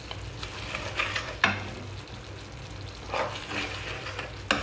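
A spoon stirs a tomato, beer and garlic butter shrimp sauce in a pan over low sizzling, with a few distinct scraping strokes standing out against the steady background.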